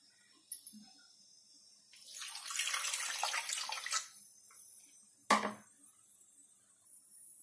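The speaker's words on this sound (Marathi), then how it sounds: "आता याच्यामध्ये आपल्याला पाणी टाकायचंय." Water is poured into a bowl over a ball of wheat dough in a quiet kitchen, a splashing gush lasting about two seconds between a few sharp knocks of the bowl and utensils.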